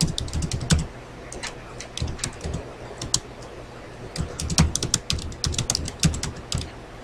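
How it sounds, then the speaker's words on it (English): Fingers type on a computer keyboard in bursts of quick, crisp key clicks separated by short pauses, close and clear with nobody speaking. "let's say you're typing something out here."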